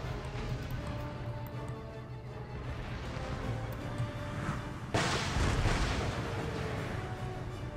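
Artillery cannons firing in the Empire Total War video game, a continuous rumbling battle bed that jumps into a louder burst of booming fire about two thirds through, with a steady hum beneath and no talking.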